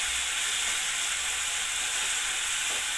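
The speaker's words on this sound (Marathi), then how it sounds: "आपला कांदा नीट परतून घ्यायचा आहे।" Onion sautéing in a pan for chole: a steady, bright sizzling hiss that holds evenly throughout without pauses, close and fairly loud, with no voices.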